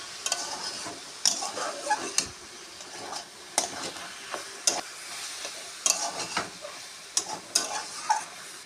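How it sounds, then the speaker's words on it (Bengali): Spinach cooking with mixed vegetables in a pan gives a steady soft sizzle, while a spoon scrapes and stirs in repeated sharp strokes throughout. "পালং শাক ভাজাটা হয়ে এসেছে"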